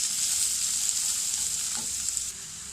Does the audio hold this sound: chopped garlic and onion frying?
yes